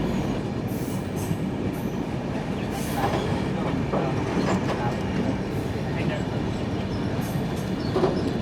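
The 16334 Trivandrum Veraval Express runs on rails as it enters a loop line, a steady rumble of wheels with intermittent clicks and squeals, heard from inside the train.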